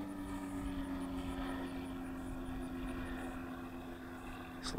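Faint aircraft engine drone as the pilot throttles back on landing approach: a low, steady, distant hum with a soft, even tone and no speech.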